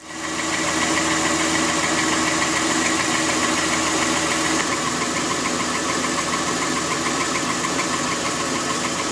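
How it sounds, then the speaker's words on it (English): A 2002 Honda Odyssey engine idling after a power steering hose replacement, a steady, close mechanical drone that holds constant for the whole stretch after starting up. "I'll start the engine"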